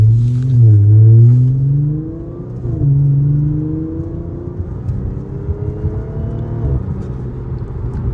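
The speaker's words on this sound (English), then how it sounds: "That supercharger, bro," A supercharged Audi revs close by, the engine note climbing in rising sweeps, dropping back and pulling up again, with the supercharger's whine rising alongside before settling into a steady, lower hum.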